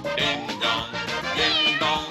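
A cat meows repeatedly in quick, high-pitched cries, close and fairly loud, one call running into the next.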